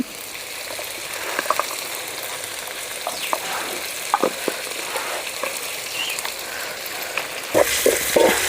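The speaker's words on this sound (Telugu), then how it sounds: "ఇప్పుడు టమోటాలు అయితే వేసి కాసేపు మగ్గనిచ్చుకుందాం" Tomatoes go into ginger-garlic paste in a pan for a chicken curry, bringing a loud steady frying sizzle with scattered stirring clicks and a sudden burst of hissing near the end.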